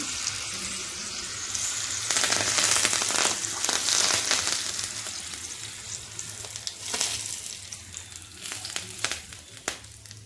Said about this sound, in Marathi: छान अशी मिरची तडतडली की मग आपल्याला गॅस बंद करून टाकायचं